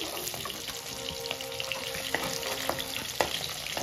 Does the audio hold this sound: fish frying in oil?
yes